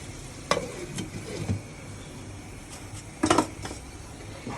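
A cooking pot with water and coriander leaves simmers with a low sizzle. A lid clatters on twice, briefly and up close, with a sharp metallic knock near the start and another toward the end.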